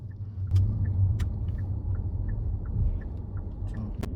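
A car drives a mountain road through South Tyrol and the Dolomites, giving a steady low engine and road rumble that stays close and even, with faint ticking high accents over it.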